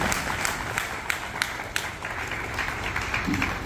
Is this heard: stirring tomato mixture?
no